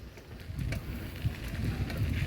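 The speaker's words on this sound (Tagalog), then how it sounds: "Kasi malakas yung hangin eh." Strong wind blows by the sea, a steady low roar of gusts buffeting the microphone throughout, with no clear voices.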